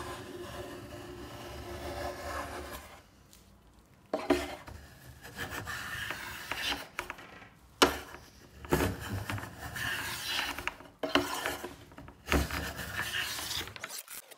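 Card scraper drawn across wooden drawer fronts to smooth them, repeated close rasping strokes in irregular bursts with short quiet gaps between passes, no talking.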